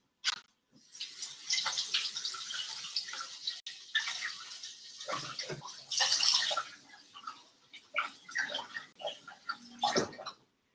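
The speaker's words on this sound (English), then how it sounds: "And then I'm going to wash my hands." Tap water runs and splashes irregularly as hands are washed at a kitchen sink after making pasta dough, close up, with short drips and gaps and no talking.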